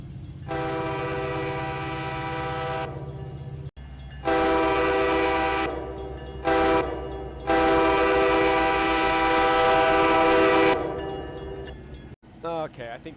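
Horn of an SD70 locomotive in Run8 Train Simulator sounds in long, loud sustained blasts with brief gaps, close and dominant over a low rumbling engine and rail noise, with a short bit of speech near the end.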